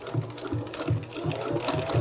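A Singer 221 Featherweight sewing machine running at a steady pace, its needle mechanism thumping in an even rhythm with a soft motor whir underneath.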